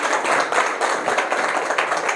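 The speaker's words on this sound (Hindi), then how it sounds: "तालियां गाएं।" Steady, dense clapping from a crowd at an anti-drug campaign talk, continuous and fairly loud throughout with no voices breaking through.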